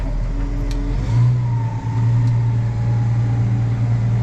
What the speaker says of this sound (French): Là-bas il y a un tracteur qui est en train de fonctionner là